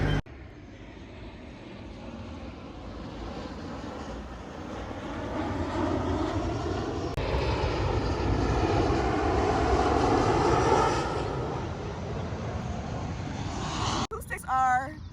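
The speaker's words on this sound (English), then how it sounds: "The airplane that was flying from over here, it actually sounded like it was over there." A fixed-wing airplane passing overhead outdoors, a low droning engine rumble that swells gradually to a peak and then fades, with a sharp handling knock near the end.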